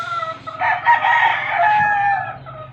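A gamefowl rooster on a chicken farm gives one loud, close crow lasting about two seconds, clear over a soft background.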